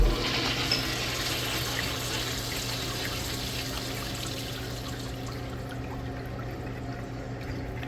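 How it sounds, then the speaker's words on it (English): A second-generation Kohler Branham stall urinal flushes, a steady rush of water running through the rim wash, loud and close, tapering off slightly near the end. "One thing that definitely brings down the effectiveness of these urinals is the rim wash."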